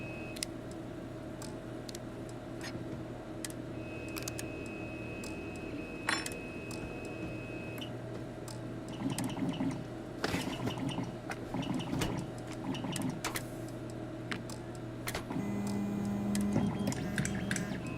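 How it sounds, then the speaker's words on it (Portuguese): A 3D printer runs inside the Starfield video game, a steady mechanical whir with soft ticking and clicking, a short tonal whine and a busier stretch of clattering motion partway through, with no talk. "Barulho de impressora 3D"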